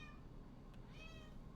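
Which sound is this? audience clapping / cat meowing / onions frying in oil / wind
cat meowing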